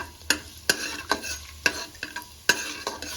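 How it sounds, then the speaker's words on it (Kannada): Whole spices, including cloves and cardamom, fry in hot oil in a pan for chicken biryani while a spoon stirs them, giving soft sizzling under repeated scraping strokes at an uneven rhythm. "ಅದೊಂದು 30 ಸೆಕೆಂಡ್ಸ್ ಅಷ್ಟು ಚೆನ್ನಾಗಿ ಫ್ರೈ ಆಗಬೇಕು"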